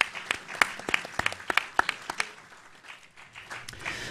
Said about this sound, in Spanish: a quien vamos a recibir con un aplauso también